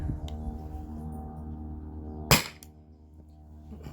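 A single sharp crack from a Byrna SD launcher, powered by an HPA tank, is fired over a chronograph indoors. The short, loud report rises from a quiet background and decays quickly.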